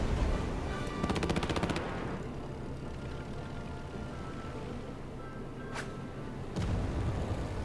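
A battleship attacks a city center in the Civilization VII strategy game, with a rapid rattling burst of gunfire, then a steady rumble and a couple of sharp impacts, fairly quiet throughout.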